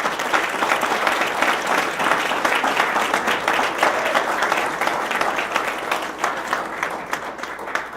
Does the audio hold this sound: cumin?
no